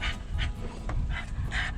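Excited dogs on leads pant close by, quick rhythmic huffing breaths repeating several times in a short burst.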